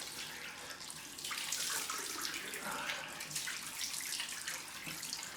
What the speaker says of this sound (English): Run some cold water.